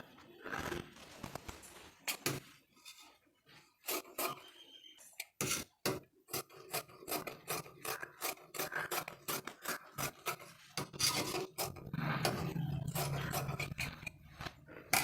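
Scissors cut through blouse lining cloth in a series of sharp, rasping snips, some quick and clustered, others spaced apart, close and fairly clear with no talking.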